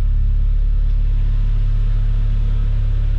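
A 2000 Audi TT with a 1.8-litre turbo four-cylinder idles smoothly and loudly close by, a steady deep rumble with no misfires and no talking.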